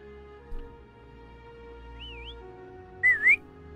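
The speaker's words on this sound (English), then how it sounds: "Why don't you call Foam over? Try whistling." A short whistle rises and dips briefly, then a louder two-part whistle follows close by, calling a companion in the Wuthering Waves video game over a soft, steady background hum.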